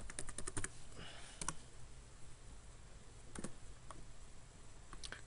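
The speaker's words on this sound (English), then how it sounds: "type the password." A password typed on a computer keyboard, quiet close key clicks in quick bursts with pauses between them, no voices.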